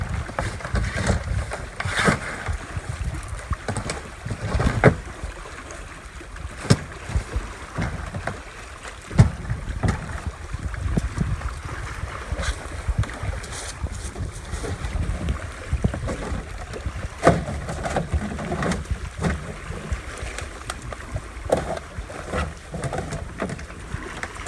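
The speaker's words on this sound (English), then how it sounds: "once we were loaded, we paddled back to Bayfield" Kayak paddling on Lake Superior among the Apostle Islands near Bayfield: steady rhythmic splashes of paddle strokes in water, with wind buffeting the microphone and light lapping throughout.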